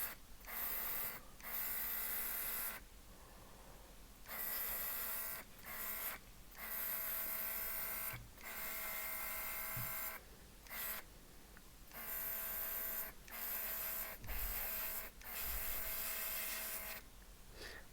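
Airbrush spraying white and red paint onto a model Italeri BR41 locomotive, a steady close hiss in repeated bursts of one to two seconds separated by short pauses.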